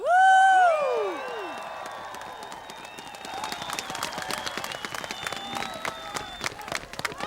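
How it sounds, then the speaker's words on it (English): Whoops open the crowd's cheering for volunteers at the Arctic Winter Games closing in Nuuk, fading into scattered clapping and applause that builds to a steady patter of many hands. "Give a big cheer to the volunteers who made this possible."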